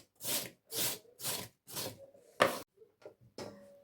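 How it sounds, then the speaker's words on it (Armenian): Carrot being grated by hand for a Korean-style salad, a series of rhythmic rasping strokes, about seven in quick succession, close and clear with no talking. "մի քիչ էլ կադրից դուրս գազարն է քերել"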